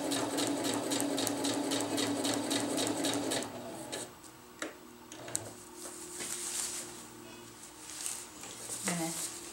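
A sewing machine stitches a winter tarp in a rapid, even mechanical whir that runs steadily, then stops, leaving quieter handling clicks and rustles while a person talks nearby.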